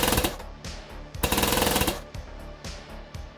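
Airsoft gun gearbox motor firing on full auto, loud rapid mechanical bursts of buzzing shots with brief gaps between trigger pulls, close and dominant.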